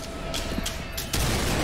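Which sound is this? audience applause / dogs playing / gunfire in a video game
gunfire in a video game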